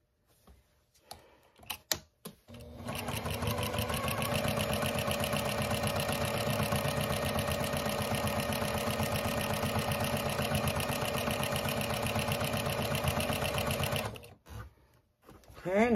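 A sewing machine stitching binding onto a baby quilt runs loud and steady for about ten seconds, framed by quieter handling sounds before it starts and after it stops.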